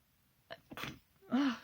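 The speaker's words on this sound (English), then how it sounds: "I'm going to sneeze." A single person sneezes alone and close up, with a couple of short breathy intakes leading into one sharp, voiced burst.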